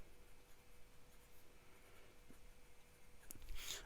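A broad steel nib on a Leonardo Momento Zero fountain pen writing on paper, a faint close scratching and rubbing that runs steadily, with a brief louder scratch near the end, no talk.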